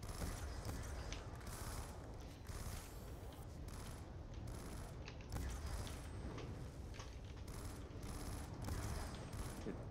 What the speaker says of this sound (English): I'm shooting you with a fucking machine gun